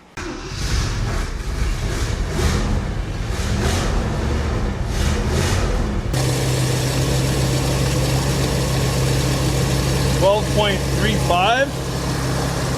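A 1966 Ford Thunderbird engine runs at a steady, choked idle, its low rumble holding throughout while a person talks over it.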